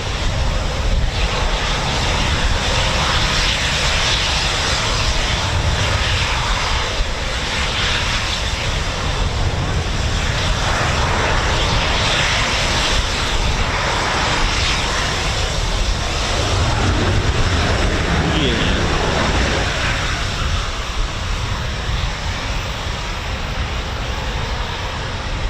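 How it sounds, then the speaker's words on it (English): A Eurofighter Typhoon FGR4 fighter jet takes off at night at RAF Coningsby, a loud, steady, broadband engine roar filling the whole stretch without a break. "Clear for takeoff, gunfighter 4-1,"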